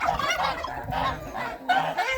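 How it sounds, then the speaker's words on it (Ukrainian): Several geese honk loudly and close by in repeated bursts, a small flock calling from a farmyard pasture shared with turkeys. "Диви, які дурні гуси."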